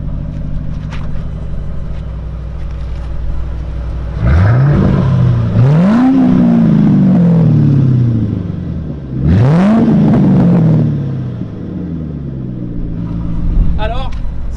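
A car with custom aftermarket wheels revs hard through a custom exhaust: two loud, rising revs that each fall away slowly, over a steady idle rumble.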